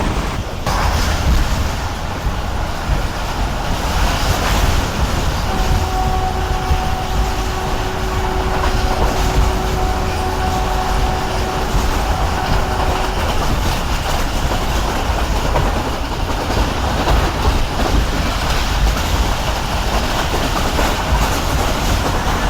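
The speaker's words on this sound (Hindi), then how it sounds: "बहुत बेहतरीन स्पीड में ट्रेन आगे जा रही है भाई" The Islamabad Express runs at speed, a loud, continuous rush and rumble of wheels on rails with steady clatter and a brief high whine partway through, with no talking.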